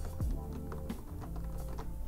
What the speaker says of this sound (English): you can barely tell I'm typing